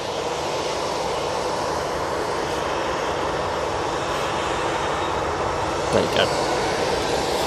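Ryanair airliner at Manchester Airport, a steady, broad engine roar at moderate distance that holds throughout while someone says a few brief words near the end.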